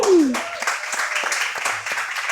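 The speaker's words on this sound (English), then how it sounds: "let's extend the round of applause to Mia Atoui as well" Audience applause at a live podcast recording, a short burst of clapping and a brief voice at the start, the clapping fairly loud and steady throughout.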